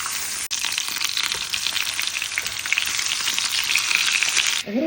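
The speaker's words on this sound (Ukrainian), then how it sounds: "Сковорідку розігріла, трошки масла вершкового і викладаю качину грудку" Duck breast sizzles loudly and steadily in butter in a hot pan, a dense crackling hiss that runs nearly unbroken, then stops abruptly at the end.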